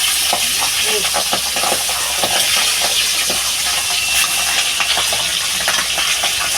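Pabda fish fry in hot oil with a loud, constant sizzle and hiss, broken by frequent crackles and pops close by, and no voices.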